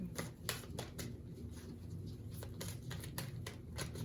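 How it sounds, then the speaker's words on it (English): Tarot cards being shuffled in repeated quick riffles and slaps, a steady papery rustle with sharper bursts every half second or so, close by. "you guys could listen to me shuffling"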